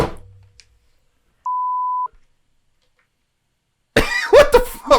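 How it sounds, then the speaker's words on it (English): A steady censor beep tone runs for about half a second in silence, followed a couple of seconds later by a burst of close, loud talk. "Maybe I'm going to beep that."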